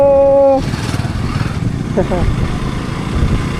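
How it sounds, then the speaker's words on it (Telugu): A Royal Enfield Himalayan motorcycle engine rumbles steadily up close after a brief tonal beep, a voice briefly audible over the throbbing exhaust, near Turtuk village by the India-Pakistan border. "Himalayan bike"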